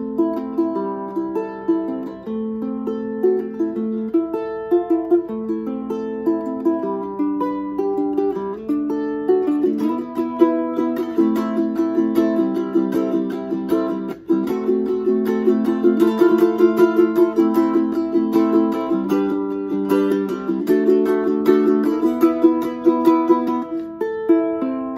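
Romero Creations spalted mango grand tenor ukulele strummed and picked in a steady, continuous melodic passage, close and clear throughout with no talking.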